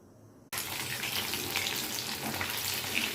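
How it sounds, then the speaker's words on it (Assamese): Broiler chicken meat fries in a pan, starting abruptly after a short quiet moment and then a dense, steady sizzle and crackle that continues at close range with no talk. "মাংসখিনি ভাজি কি কৰিবি ফ্ৰাই কৰিছোঁ"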